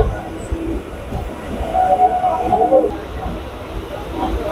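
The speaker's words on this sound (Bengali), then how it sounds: "একদম সঠিক সময় আমাদের ট্রেন ছাড়লো শিয়ালদা স্টেশন থেকে।" A Kolkata local train pulls out of Sealdah station with a steady rumbling roll and faint rail clatter throughout, while people talk over the running noise.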